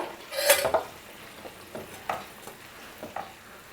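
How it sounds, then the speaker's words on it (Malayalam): Kozhukatta batter of ground flour with coconut, cumin, green chilli and curry leaves is stirred in a non-stick pan, with a louder opening scrape followed by softer, irregular strokes over a faint sizzle. "ഇളക്കി കൊടുക്കുക കേട്ടോ നല്ല വേവിച്ചെടുക്കുക"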